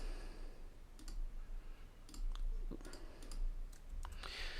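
Quick, light clicks come in small irregular bursts over a low room hum, like a mouse button being pressed repeatedly.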